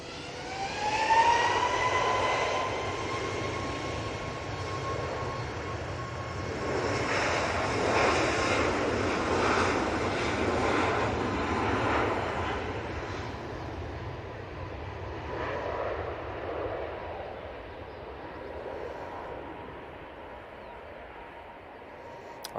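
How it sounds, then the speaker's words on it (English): A Boeing 737 MAX jet airliner's engines roar steadily at a distance as it approaches Manchester Airport, swelling slightly midway and then slowly fading, with no talking. "Got a Ryanair Max now coming on in front of us."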